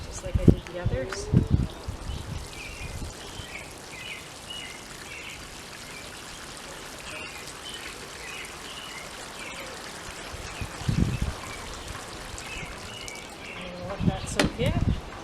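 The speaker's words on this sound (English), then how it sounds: "So I'm just going to water that deeply, just like I did the others." Water from a garden watering pours steadily onto newly transplanted tomato plants, a continuous soft trickle and splash with brief louder knocks and a voice speaking at the start and end.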